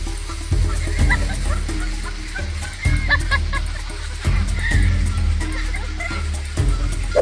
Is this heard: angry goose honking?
yes